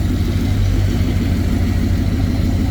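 A small block Chevy V8 in a Ford Anglia street rod runs steadily at idle, a loud, continuous low rumble that holds without pause for the whole stretch, with no talk over it.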